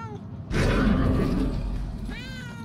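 A cat meows in the video game Murdered: Soul Suspect, one drawn-out, fairly loud meow that starts abruptly and fades, with a faint voice near the end.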